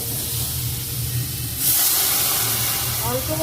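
Water hitting a hot pan on the stove with a loud, steady steaming hiss that swells partway through as more water goes in, alongside faint kitchen clatter.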